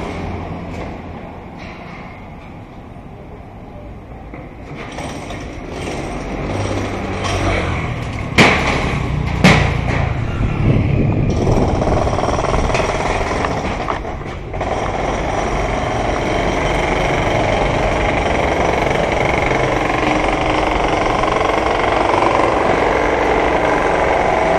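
Road construction machinery and passing traffic on Yaowarat Road in Phuket, a steady loud engine rumble with a few heavy thumps and bangs near the middle, then continuous machine and traffic drone, no talk.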